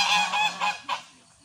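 Geese honk several times in quick succession, close and clear, with the last call trailing off into quiet.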